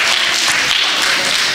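An audience claps for the children who learned Telugu at an Ugadi 2025 celebration, a brief, dense and loud burst of applause with no voices.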